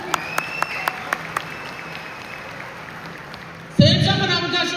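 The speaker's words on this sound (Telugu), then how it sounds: "బిగ్ క్లాప్ అండి" Audience applause at a Safe Shop motivational speech: a few scattered, isolated claps early on, then a sudden loud burst of full crowd clapping that fills the final second.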